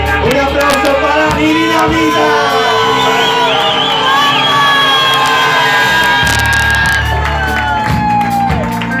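A live audience at a Gran Cafe concert cheers, whoops and shouts loudly and continuously, a dense crowd roar with scattered high yells standing out.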